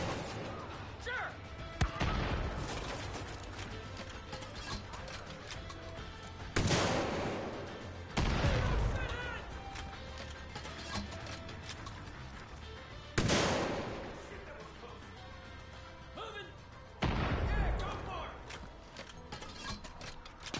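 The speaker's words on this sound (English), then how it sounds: "So many rockets being fired everywhere." Rockets firing in Far Cry 5, with several sharp loud launches and blasts spaced a few seconds apart over a rumbling mechanical background, while someone talks intermittently.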